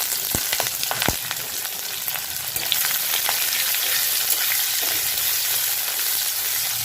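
Sliced onion, slit green chillies, bay leaf and whole spices fry in hot oil with a loud, continuous sizzle, a few sharp crackles and spatters early, then a dense steady hiss.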